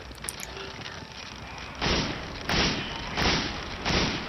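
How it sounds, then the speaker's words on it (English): Repeated heavy mechanical thuds of an elevator mechanism in Resident Evil 5, four evenly spaced clunks over steady low background noise, fairly loud and close. "damn elevator."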